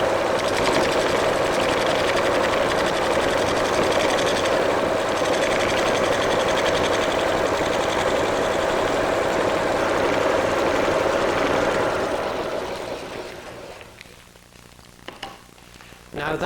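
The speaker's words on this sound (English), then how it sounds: "we'll switch on and lightly turn the face" A wood lathe turns the face of an elliptical bowl as a gouge cuts it, giving a continuous whirring, scraping roar that runs steadily for about twelve seconds, then winds down to quiet.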